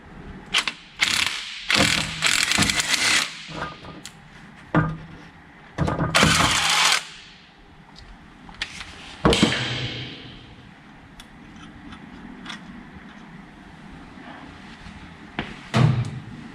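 Mechanical work on the crankshaft front pulley of a 1961 Auto Union DKW 1000 engine: loud ratcheting bursts and metallic clanks in uneven runs, with short pauses and scraping between them.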